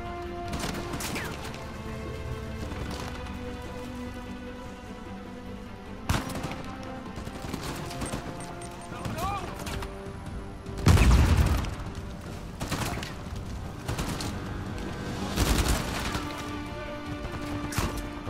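Semi-automatic weapon fire in Uncharted 4: A Thief's End, with sharp individual shots and short volleys separated by pauses, some heavy close blasts standing out over steady game background.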